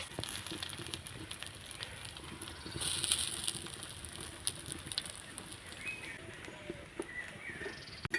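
Semolina snacks fry in a pan of oil, giving a faint, steady sizzle and patter with occasional small pops and no speech.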